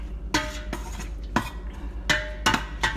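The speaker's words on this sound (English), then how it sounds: "get you a spoon and go ahead and start stirring it up" A metal spoon taps and scrapes against a pan while shrimp are stirred in melting butter, about six sharp clinks in an uneven rhythm over a low hum, close up with no speech.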